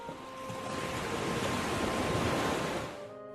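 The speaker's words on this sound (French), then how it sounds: "elle n'eut pour réponse que le son des vagues" Ocean waves wash steadily onto the shore in a continuous, broad rushing surf that swells gently and then fades near the end, with no voices.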